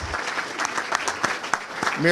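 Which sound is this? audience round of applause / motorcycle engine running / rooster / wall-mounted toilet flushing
audience round of applause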